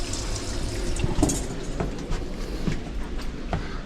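Hot water runs steadily from a vanity tap inside a skoolie school bus conversion with propane water heating, a continuous close splashing rush with faint knocks and clicks over it and no talk.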